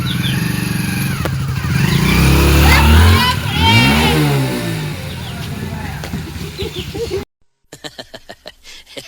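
A new motorcycle's engine revs up loudly close by, rising and falling in pitch through a few throttle bursts before cutting off, with people talking over it.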